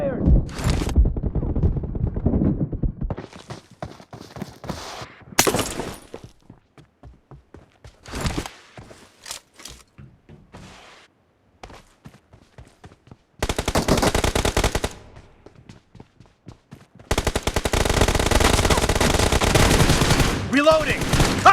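Video game gunfire with only 9mm ammo: bursts of rapid automatic shots and single loud cracks, interspersed with quieter gaps, footsteps and brief shouted voices, ending in two long sustained volleys.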